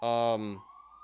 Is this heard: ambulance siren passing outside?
yes